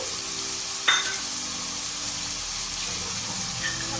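Cauliflower, carrot, beans and peas dropped into a pan and stirred for a vegetable kurma, giving a steady hiss and sizzle with one sharp clatter near the start, close and even, with no talking.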